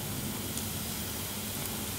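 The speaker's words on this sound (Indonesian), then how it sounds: "Kita goreng dengan minyak yang sudah dipanaskan." Dough deep-frying in heated oil gives a steady, close, loud sizzle and crackle with a dense hiss that holds evenly throughout, with no voices.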